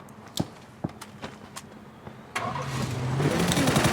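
A vehicle in the PUBG battle-royale video game: a few sharp taps and thuds, then an engine kicks in and drones loudly, rising steadily as the car drives off.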